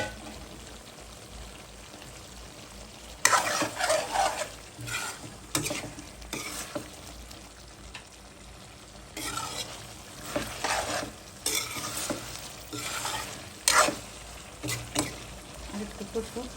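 Small potato pieces stir-fried in a pan while cooking a rohu fish curry, loud bursts of sizzling and spatula scraping arriving in uneven surges over a quieter, steady fry, with no talking.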